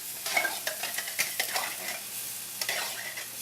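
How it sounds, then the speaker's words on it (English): Tomato sauce poured into a hot, sizzling pan for Creole chicken, a close crackling fry broken by several sharp spatters and stirring clatters. "we then take our tomato sauce and we add our tomato sauce"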